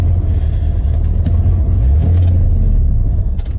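A 1991 Ford F-150 pickup drives with its tires slipping, giving a loud, steady low engine and road rumble that holds level throughout, with no talking.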